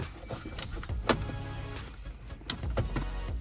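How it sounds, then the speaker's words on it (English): An interior trim piece in a BMW E90/E92 M3 being worked loose, with close plastic clicks, creaks and rubbing in irregular bursts, no speech. "now that we have the trim piece loose"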